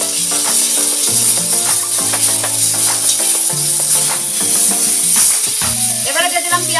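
A fish head fries in hot oil seasoned with salt, turmeric and nigella seeds, giving a loud, steady sizzle with crackling pops and faint tonal hum underneath, continuous throughout.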